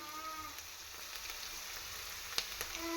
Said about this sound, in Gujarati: હવે આપણે આમાં ડુંગળી એડ કરીશું.